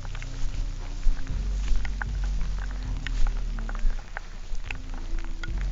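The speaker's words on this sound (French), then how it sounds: "Ah, il pleut bien là." Steady rain falls during an outdoor airsoft game, a dense close patter with scattered sharper drop hits over a low rumble of wind or handling noise, with no talk.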